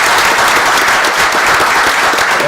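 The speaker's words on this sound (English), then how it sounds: "Once again, big round of applause." A large crowd at a council meeting claps steadily and loudly for a couple of seconds, a dense, continuous wash of applause.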